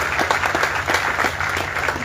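An audience claps steadily through an inauguration ceremony for a job fair, a dense and continuous round of applause that fills the room with no voices above it.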